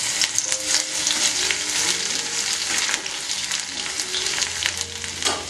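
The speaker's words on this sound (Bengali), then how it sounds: "মেথিটা যখন কালো হয়ে আসবে তখন দিয়ে দিতে হবে রসুন কুচি।" Chopped garlic hits frying fenugreek seeds in hot oil, giving a loud, steady sizzle that crackles continuously throughout.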